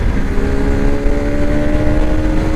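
A modified Bajaj RS200 motorcycle pulls through its gears, its engine a steady, close, loud drone with a rising tone and no voices.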